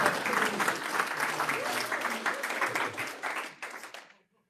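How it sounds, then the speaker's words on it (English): Audience applause welcoming a speaker to an ocean science talk, a steady wash of many hands clapping that thins out and stops abruptly near the end. "Now you can clap."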